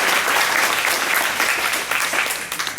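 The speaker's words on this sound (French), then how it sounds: "On peut les applaudir" Seniors at a year-end afternoon snack gathering in Mantes-la-Jolie applaud the organizers, with close, dense clapping that stays strong before thinning into scattered claps at the end.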